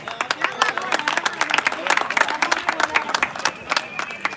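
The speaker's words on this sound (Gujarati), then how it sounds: "તાળીઓ પાડજો ભાઈ" Brisk, dense clapping from a crowd fills the air as a runners-up trophy is handed to a team captain at a cricket tournament final, loud and continuous with a few voices mixed in.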